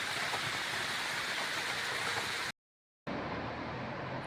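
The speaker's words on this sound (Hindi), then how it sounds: "रास्ते में एक बहुत ही सुंदर जो है वो झरना मिला।" A waterfall on the mountain trail to Tiula village in Bharmour roars as a constant broadband rush, cutting to silence for half a second before resuming at the same steady level, with no talk.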